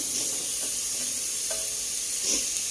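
Chopped tomatoes dropped into a hot pan for biryani sizzle and fry steadily, a continuous close hiss with light stirring scrapes and a brief louder burst near the end.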